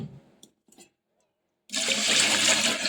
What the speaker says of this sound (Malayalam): ഫസ്റ്റ് വെള്ളമാണ് ഈ കളയുന്നത്